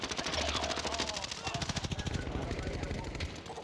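Rapid automatic gunfire from a Call of Duty: Warzone match, loud and continuous bursts with a steady rattling rhythm, while a voice talks over the shooting.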